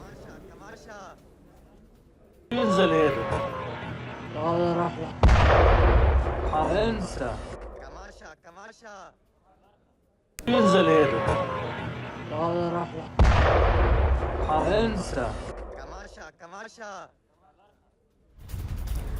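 Israeli missile strikes hit southern Lebanon overnight, with loud, heavy low booms and rumbling blasts that come twice in a repeating sequence, alongside voices talking.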